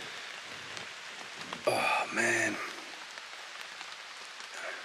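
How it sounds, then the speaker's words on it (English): Rain falling on a forest camp shelter, heard as a soft steady patter throughout, with a brief exclamation from a man partway through. "It's raining. Let's bring the camera in under the shelter as well."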